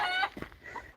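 A hen clucks loudly right after laying an egg at a homestead coop, a strong burst of squawking cackles followed by a few quieter, broken clucks that fade out.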